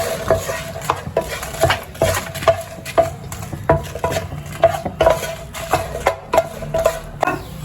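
A utensil stirs tamarind and dried chillies frying in oil in a pan, clinking and scraping against the metal in a quick irregular rhythm over a soft background sizzle.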